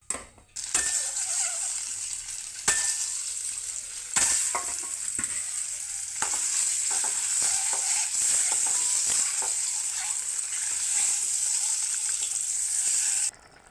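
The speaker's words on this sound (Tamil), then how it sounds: "இப்போ எண்ணெய் காஞ்சிச்சு அதில் கொஞ்சம் மஞ்சள் தூள் ஆட் பண்ணிக்கலாங்க" Turmeric powder frying in hot oil over a low flame for an egg gravy, a loud continuous close sizzle broken by a few sharp metallic clinks of a spoon against the pan.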